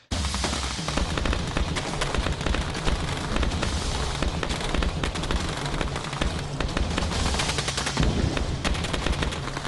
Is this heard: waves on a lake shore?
no